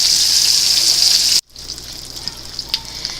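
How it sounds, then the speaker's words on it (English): Catfish fries loud and close in a pan, a dense steady sizzle that cuts off abruptly and returns much quieter with scattered small pops and crackles, no voices. "I have turned the catfish over once again, and it's cooking very slow."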